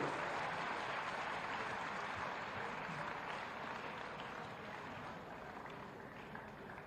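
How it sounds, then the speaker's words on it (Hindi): Sustained applause from an audience at a ceremony launching a Sanskrit scholarship scheme, dense steady clapping from a large crowd that holds level throughout and fades slightly at the end. "जोरदार तालियां आप सभी बजाते रहें।"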